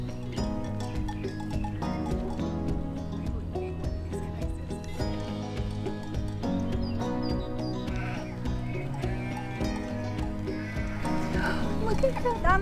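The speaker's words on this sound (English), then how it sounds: "we got distracted by the cutest flock of sheep" Repeated bleating from a flock of sheep in Sarajevo, Bosnia and Herzegovina, many overlapping calls close by, with a person talking amid them, in rain.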